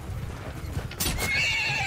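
A horse whinnies loudly in the medieval battle game Mount & Blade II: Bannerlord, a high, quavering neigh rising over hoof clatter and the rumble of combat.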